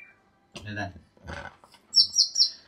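Two bursts of talking, then a short series of high, bright chirps from a single Konin songbird, three quick notes close together near the end.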